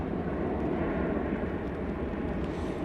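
An airplane departing Manchester Airport, bound for Gibraltar, gives a broad low jet roar from a distance, steady and fairly faint throughout.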